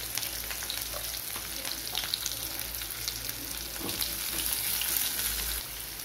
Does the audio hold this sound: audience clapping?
no